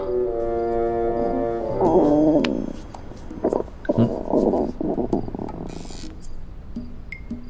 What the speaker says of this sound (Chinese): 是我肚子叫。